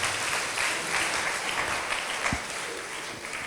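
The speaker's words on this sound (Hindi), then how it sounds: "ताली बजा के हम परमेश्वर को धन्यवाद दे।" Church congregation at a Sunday service clapping together in thanks to God, a steady dense wash of applause from many hands with no break, heard at moderate distance.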